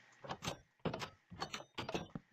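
Minecraft's redesigned door sounds, heard as four short, separate knocking clatters with gaps between them, fairly close and clear with no voices over them.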